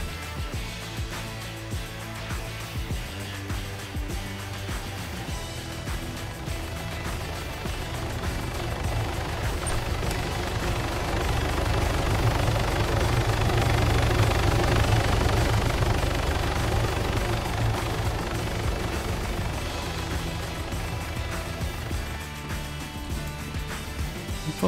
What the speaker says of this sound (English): Like, what is that heli doing?